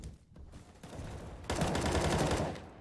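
Submachine-gun fire in a Counter-Strike: Global Offensive ESEA MDL match, a dense rattle of shots that swells after a quieter start and holds loud and steady before tapering off.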